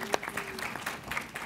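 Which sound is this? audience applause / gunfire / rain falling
audience applause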